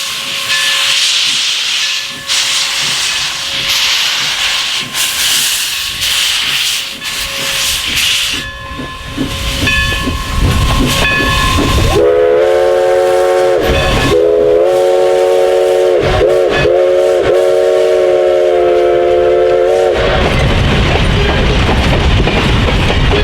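Steam locomotive number 11 of the Everett railroad rolls past, loud and close, with heavy hissing steam, chuffing and clanking rail cars, and a long sustained steam whistle blast sounding in the latter half.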